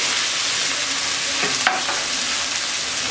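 Pigeon meat frying in a pan with turmeric and cumin, a dense, loud, continuous sizzle with a single soft scrape of stirring midway, no talk.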